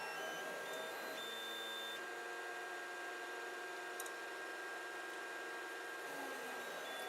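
An FLSUN QQS 3D printer runs a slow auto-leveling routine, giving a steady whirring hum with faint motor whines and a few soft ticks, close and continuous with no talking.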